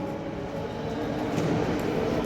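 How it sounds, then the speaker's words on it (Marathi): A continuous low rumble of a moving train heard from inside, steady and moderately loud throughout. "बघा मित्रांनो इथं ट्रेनची मग सवारी आहे"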